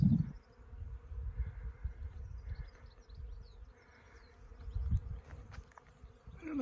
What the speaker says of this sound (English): I can definitely hear lots of bees humming.